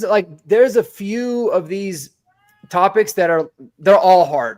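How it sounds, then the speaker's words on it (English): Domestic cat meowing faintly in the background of an indoor podcast recording, mostly masked by someone talking over it. "that's my cat meowing in the background"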